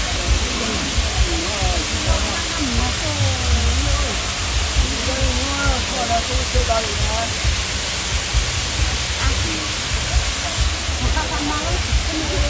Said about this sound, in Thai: น้ำตกที่ใหญ่ที่สุดในโลกครับ